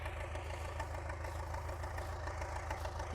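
A tractor engine digging up potatoes idles and chugs steadily nearby at a low pitch, a constant mechanical drone with no voices.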